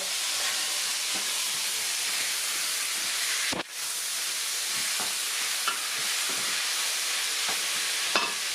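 Beef stew bubbles and sizzles steadily in a pot while a spoon stirs it. A few soft scrapes and knocks sound against the pot, with one sharp clunk partway through and no talking.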